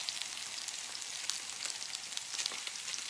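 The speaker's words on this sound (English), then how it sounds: "quarter of a cup of the Riesling, which is boiling away so fast." Riesling wine boiling hard in a hot pan, a dense steady sizzle with fine crackling pops, close and continuous, no voices.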